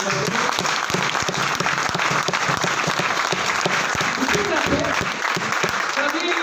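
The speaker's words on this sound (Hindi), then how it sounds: "तो फिर से एक बार जोरदार तालियां।" Loud, dense applause from a large audience at a company sales seminar in India fills the whole stretch, a sustained roar of clapping without pause.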